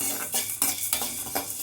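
Cumin seeds going into a tempering for vangi bath, stirred in a metal pan with a spoon: a few quick, close scraping strokes against the pan over a faint sizzle, with no talk.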